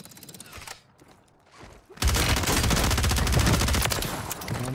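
Gunfire in a big-map video game: after a quiet, muffled opening, a loud, dense stretch of rapid shots erupts and keeps going to the end.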